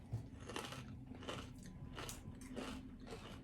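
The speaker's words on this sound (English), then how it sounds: "You can probably hear us crunching." Crispy extra-ripe plantain chips crunch between the teeth in several close, quiet bites and chews, with no talking.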